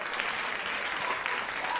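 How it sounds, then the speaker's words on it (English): An audience at a stand-up comedy show breaks into brief, dense clapping, a close, continuous burst of applause from a crowd. "don't clap for that"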